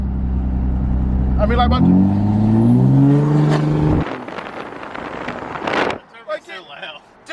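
Turbo on a third-generation Duramax diesel truck while driving: a loud, rising whistle over a heavy engine drone that swells, then cuts off abruptly, leaving cabin rumble as a passenger begins talking close by.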